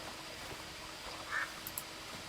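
Ducks in World of Warcraft, scared off during a Noblegarden daily quest, give a faint, brief quack or two over a quiet game background with no talk.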